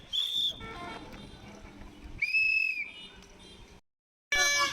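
Toy whistles sold at a street stall near a political rally, blown in short shrill blasts with busy crowd and street noise around them, a brief silence and then a final loud burst.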